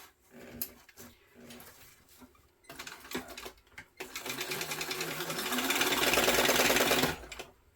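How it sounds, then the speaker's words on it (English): A sewing machine stitches a backpack in bursts, short runs at first, then a long steady whir that builds and holds for several seconds before stopping, close and fairly loud. "I'm just going to sew this down"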